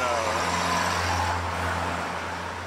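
A car passes on a busy street beside a hillside house in Duluth, its steady engine and road rumble filling the clip from start to finish, loud and close, with no voices.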